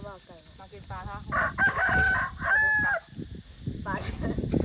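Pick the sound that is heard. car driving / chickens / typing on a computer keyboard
chickens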